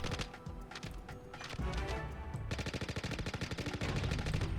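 Sustained automatic gunfire pours into a parked Apollo ship in Star Citizen, loud rapid bursts in a dense rattling stream that grows steadier and heavier toward the end.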